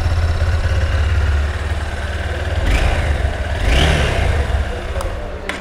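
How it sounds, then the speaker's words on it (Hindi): A Honda Hornet 2.0 motorcycle's exhaust note on cold start: a steady, loud, close engine rumble with two brief rises in revs partway through. No one speaks. "अभी जबकि कोल्ड स्टार्ट पे है बाइक, उसके बाद इस टाइप से कुछ एग्जॉस्ट आपको यहाँ पे मिलने वाला है"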